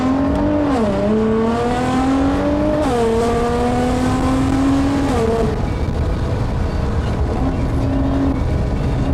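A Nissan GT-R driving, heard from inside the car: a loud engine note climbs through gears in several rising pulls, then settles into a steady drone with a brief shift near the end.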